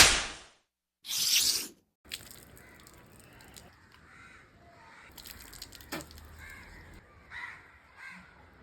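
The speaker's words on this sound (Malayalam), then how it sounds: "അത് കാക്കയാടോ?" A crow caws loudly a few times near the start, then quieter rustling and background activity follow with a few fainter calls.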